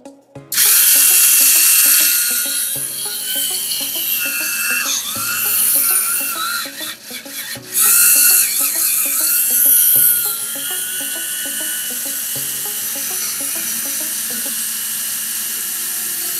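SFM Carbon mini 4WD chassis fitted with an aftermarket gearset, spinning on a test run. It gives a loud, high-pitched continuous whine that steadies after starting, with a brief interruption midway and slight shifts in pitch.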